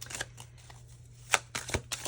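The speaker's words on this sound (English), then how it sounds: "I love shuffling this deck, y'all." A deck of tarot cards is shuffled up close, with soft riffling and flicking bursts over a low steady hum, a sharper snap near the end, and no voices.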